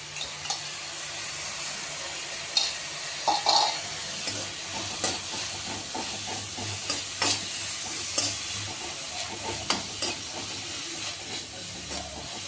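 Ginger garlic paste and onions frying in a pan for gobi manchurian, a continuous hissing sizzle with a spatula stirring and scraping in scattered strokes, fairly quiet and close; no talk.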